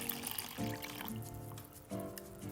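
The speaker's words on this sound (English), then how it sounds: "Add 1 cup of warm water." One cup of warm water poured into a bowl for Korean hot dog batter, giving a faint, steady trickling splash that swells slightly at moments and continues throughout.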